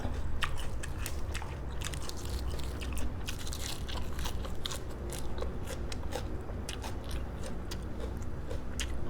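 Chewing on octopus tentacles served with seafood dipping sauce, a close, steady run of wet squelchy bites and crunchy mastication throughout, with no talking.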